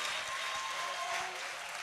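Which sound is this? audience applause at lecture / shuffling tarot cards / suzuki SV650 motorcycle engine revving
audience applause at lecture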